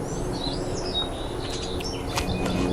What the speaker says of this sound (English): There's these 2 birds just talking to each other.